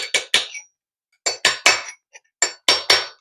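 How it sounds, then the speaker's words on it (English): A hammer taps a flat chisel in sharp, ringing metal strikes, grouped in quick bursts of two or three with short pauses between, close and clear, while removing a center support bearing on a Ford Edge. "we're just gonna use a hammer and just slowly tapping right in there"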